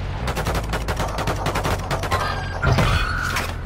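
Rapid, loud gunfire rattles in a dense burst within an intense online shooter match, with a sharp crack and a shattering hit near the end.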